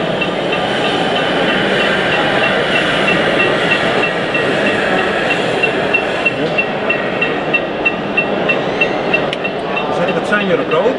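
An H0-scale model railway train runs past a model station at the Eurospoor 2021 exhibition in Utrecht, giving a steady close rolling hum with light rhythmic clicking toward the end, while voices talk in the background.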